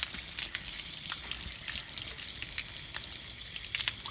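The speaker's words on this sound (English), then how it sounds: "Look at that brown water coming at the bottom, man." Brown water gushes and splashes steadily out of the bottom drain of a water heater in a rental house, a continuous close hiss of flowing liquid with no one talking.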